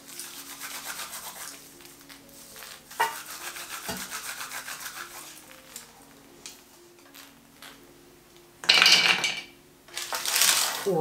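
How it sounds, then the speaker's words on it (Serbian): Roasted hazelnuts are rubbed to loosen their skins, giving soft, close rustling and rubbing that runs steadily and then swells into louder bursts of scraping near the end, with no talk. "Sada od ovih lješnjaka odvojite kožicu i prebacite ih u blender."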